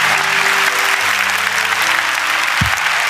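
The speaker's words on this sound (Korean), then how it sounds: "우리 큰 박수로 격려하고 축복했으면 좋겠습니다" Loud, dense applause from a church congregation, continuous clapping across the whole stretch with a low hum and a brief thump under it, no speech over the top.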